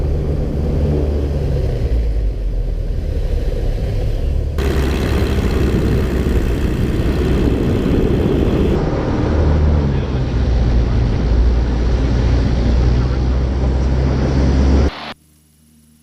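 Small airplane engine rumbles loud and close during a spin and recovery, the heavy drone shifting in tone a couple of times as power changes, with a voice counting over it before the engine noise drops away sharply at the end.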